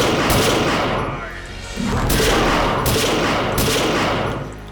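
AK rifle gunfire in a video game crackles in loud rapid bursts, dense volleys of shots with a brief lull partway through before the firing resumes.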